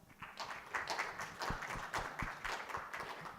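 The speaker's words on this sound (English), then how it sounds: "Let's give them another round of applause." A conference audience at the end of a SCaLE 22x session gives a steady round of applause, dense overlapping clapping from a room of people, moderately loud and sustained throughout.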